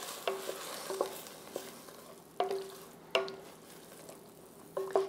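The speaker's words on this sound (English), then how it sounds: "and a little bit of our tomato sauce. Let's stir that all together." Chili with diced tomatoes and tomato sauce stirred in a six-quart Dutch oven: a spoon scrapes and knocks against the pot in several distinct strokes over a soft, steady sizzle, with no voices.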